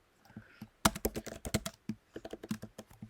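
A computer keyboard clatters in quick irregular bursts of close keystrokes while C++ code is being written, with a short pause partway through the typing.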